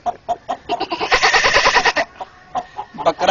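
A voice mimics a goat, giving one loud, wavering bleat in the middle, framed by short choppy vocal sounds close by.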